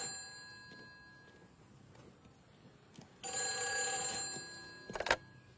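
A telephone bell rings in a quiet room, one sustained bright metallic ring followed by a short clattering burst a moment later, with faint background hiss and no talk.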